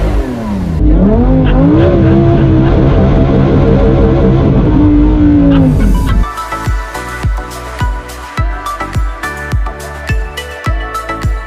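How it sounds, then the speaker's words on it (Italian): Lamborghini Huracán Super Trofeo V10 race cars on a track give a loud, close engine roar that sweeps up and down in pitch for several seconds, then gives way to a choppy, pulsing rhythmic sound. "Come potete sentire il sottofondo non è niente male, questa sinfonia di V10 delle Huracan Super Trofeo"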